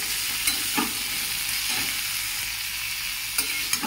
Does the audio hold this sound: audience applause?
no